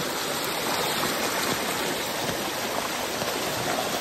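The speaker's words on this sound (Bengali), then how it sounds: "কি স্রোত ভাই" Strong floodwater current after record rain rushes past in a dense, unbroken roar close by, steady and loud for the whole stretch with no pauses and no voices.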